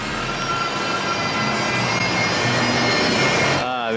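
A Honda S2000 engine runs with a quiet exhaust, a steady low drone and hum that holds throughout before cutting off near the end.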